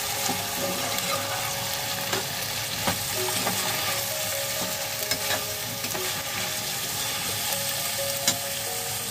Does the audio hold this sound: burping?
no